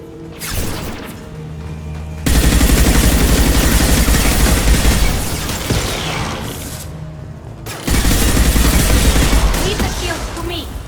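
Defensive turret firing in the video game Mass Effect 2 Legendary Edition, two long loud bursts of rapid gunfire separated by a brief lull, with mechanical clatter and battle noise.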